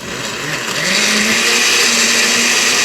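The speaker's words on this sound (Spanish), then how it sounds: "Y más o menos una taza de agua para poder licuar" A blender whirs loudly and steadily, blending tomatoes with water for a bacalao sauce, the motor's pitch rising slightly as it gets going and then holding constant.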